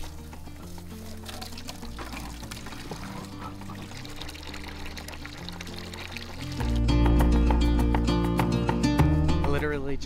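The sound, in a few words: water filling a sheep trough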